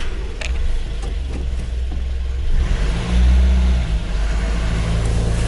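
A GAZ-21 Volga car engine, just started on a sunny winter day, rumbles steadily and then revs up loudly around the middle before settling back to a rough, uneven idle, with no talk.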